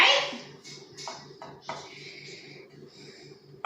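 A spoon clinks and scrapes while shaving cream mixture is stirred in a bowl, giving several short close taps and rubs in an uneven rhythm at a moderate level.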